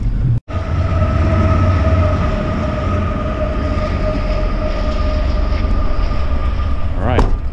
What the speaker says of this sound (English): All right, train's gone.